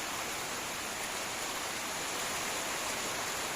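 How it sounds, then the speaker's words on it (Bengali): Rain falls outdoors near a home garden, a dense, even hiss of drops filling the whole stretch at constant loudness with no voices. "এই দেখুন বৃষ্টি পড়তেছে"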